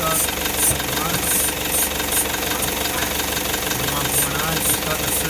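A car engine, run after slow throttle pumps, idles loudly and unevenly with a rough, knocking clatter, a dense steady mechanical roar close by with recurring sharper rattling pulses.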